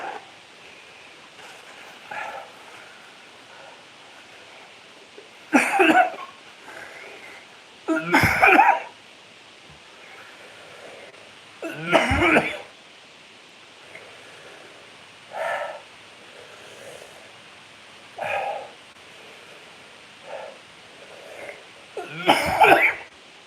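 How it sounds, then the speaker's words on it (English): Harsh coughs in separate fits after eating a very hot pepper, several spaced bursts over time, close and fairly loud, with quieter raspy breathing between them. "The cough."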